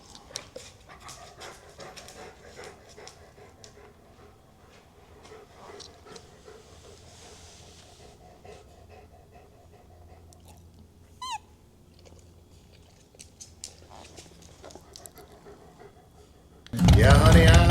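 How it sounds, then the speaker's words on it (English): A dog pants and chews quietly at close range, a soft, faint breathy rhythm with small crunching sounds, ending in a sudden loud burst of noise. "He's such a good dog."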